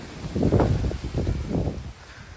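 Strong gusts buffet the microphone on a trimmed gravel path, coming in two rumbling surges that rise and fall within a couple of seconds.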